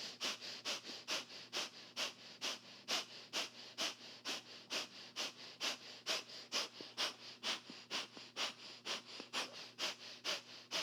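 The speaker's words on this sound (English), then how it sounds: "Deep breath in. Full breath out." Deep, steady breathwork, each full inhale and exhale audible as a rhythmic airy rush, about twenty-five cycles close to the mic with no talking.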